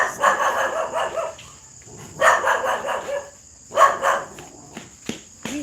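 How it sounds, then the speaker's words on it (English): Several dogs bark in repeated bursts at close range, with crickets or insects chirping steadily in the background between the barks. "We have a lot of dogs here. A lot of dogs."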